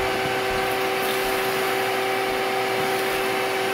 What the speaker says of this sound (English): I use a vacuum here.